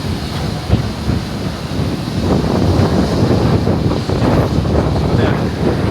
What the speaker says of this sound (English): It's a huge plane and it's extremely windy.